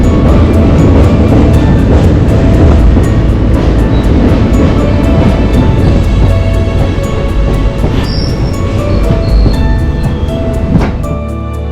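A train runs on the Punalur–Tenkasi railway line, a loud, steady rumble with rhythmic clicking of wheels over rail joints throughout, close and continuous without any voices.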